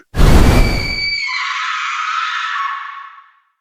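A shrill woman's scream used as a sound effect in a spoken horror story set in a hostel room; a loud noisy burst opens, then a sustained high wail trails off over about three seconds.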